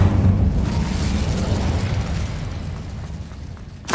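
An Incendio fire spell cast in Hogwarts Legacy, a loud close burst with a rushing roar that decays gradually over several seconds, with a fresh sharp onset at the very end.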